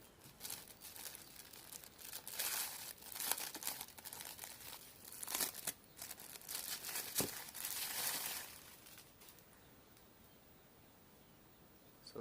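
Plastic packaging for a Telesin V2 motovlog bag crinkling and tearing as it is opened, loud close rustles and rips for about eight seconds, then a quieter stretch of light handling.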